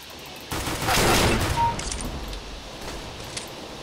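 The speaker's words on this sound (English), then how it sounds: "I thought I heard someone shoot" A burst of gunfire in Counter-Strike: Global Offensive, likely pistols, opens with a sharp crack, then a dense rattling volley that lasts about a second and trails off into fainter echoing noise.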